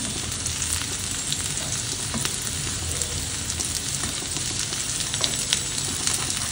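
Drumstick pods fry with a steady, even sizzle in a pan, a close crackling hiss running throughout with light scrapes and clicks as the pods are turned over.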